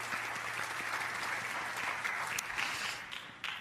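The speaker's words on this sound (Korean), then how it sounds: "우리 귀한 청년들 한번 큰 박수로, 각 가정에서도 뜨거운 박수로 좀 축복해 주시기 바랍니다" A large congregation at an early-morning church revival service gives a young adults' choir a long, warm round of applause, dense overlapping clapping that holds steady and then thins toward the end.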